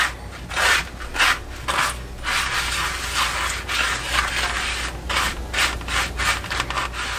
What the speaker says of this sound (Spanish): Lo vamos a revolver que quede perfectamente revuelto para que podamos empanizar nuestras berenjenas.